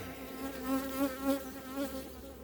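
Bees buzz at an opened, low-set beehive during an inspection: a soft, steady hum of many insects that swells and dips, with no voices.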